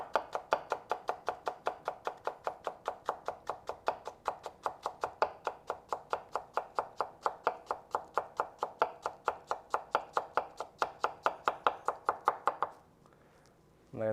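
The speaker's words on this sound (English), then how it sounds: "So now it's flat, and I can just go through and cut it." A knife chops steadily through flattened cabbage on a cutting board, a long fast even series of sharp close knocks that stops abruptly near the end.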